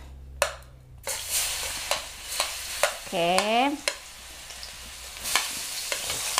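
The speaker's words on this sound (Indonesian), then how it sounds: "Aku masak pakai wajan yang sama, pakai minyak yang tadi ya guys ya. Masukin bawang merah dan bawang putih dulu." Shallots and garlic sizzle in hot oil in a wok, with repeated close scraping and stirring knocks from a utensil and a short squeaky scrape midway; a brief spoken word.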